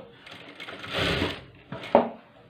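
A sewing machine stitches a folded 1.5-inch hem on a blouse in short bursts, a swelling run of stitching followed by a quicker burst and a sharp clack, close and fairly soft.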